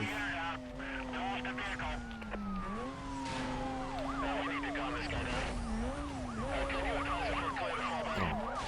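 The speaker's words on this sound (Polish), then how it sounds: "Ale teraz będzie nas policja gonić." Police car sirens wail and yelp in overlapping sweeps during a pursuit in the racing game NFS Most Wanted 2005, loud and continuous over a steady droning car engine throughout.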